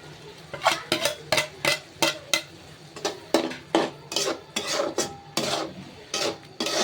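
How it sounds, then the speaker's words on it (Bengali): Dried fish tossed into a pot of cooked-down spices and stirred, with a steady run of sharp, rhythmic scrapes and clatters from a utensil against the pot, close and fairly loud, no voices. "এখন আমি শুটকিটা দিয়ে দেব।"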